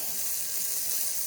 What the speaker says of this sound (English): Now it's sizzling a little bit.